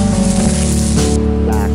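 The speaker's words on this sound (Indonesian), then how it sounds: "tinggal Anda remas-remas saja seperti ini untuk mengeluarkan biji-biji sawi dari kulitnya" Dried mustard seed pods are crushed and rubbed between the hands, giving a steady, close crackling rustle with a faint voice under it.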